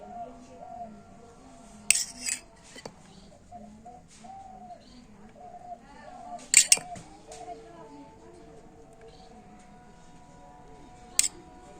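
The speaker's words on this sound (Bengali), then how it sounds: "আর একটা চামচ নিয়ে তো চামচের পিছনটা এইভাবে বিটের রসের মধ্যে ডুবিয়ে আর একটু ধারগুলোকে আমি ডিজাইন করে দেব" A metal spoon is dipped in beet juice and clinks against a dish while decorating the edges of chandrapuli pitha, with a few sharp, widely spaced clinks under steady talking.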